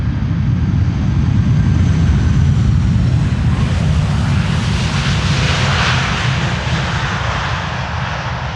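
A Delta Airlines plane, flight 136 returning from Detroit, passes as a loud, close, continuous engine roar with a deep rumbling low end that eases slightly toward the end.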